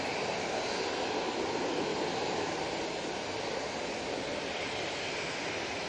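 TUI Boeing 737-800 jet airliner, a continuous distant engine roar with broad, even rushing noise that stays steady for several seconds, no voices present.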